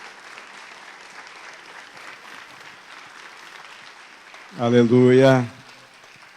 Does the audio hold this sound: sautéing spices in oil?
no